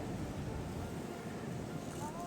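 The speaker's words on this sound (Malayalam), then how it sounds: "നല്ല കാറ്റുണ്ട്." Wind blows across the microphone at Tri-State Peak on the Kentucky, Virginia and Tennessee border, a constant low rumbling buffet with no break.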